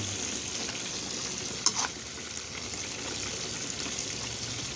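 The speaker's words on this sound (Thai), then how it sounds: "ทอดน้ำมันให้ท่วม ใส่น้ำมันเยอะๆหน่อย" Steady, hissing sizzle of fish deep frying in plenty of hot oil, continuous throughout, with a brief louder crackle partway through.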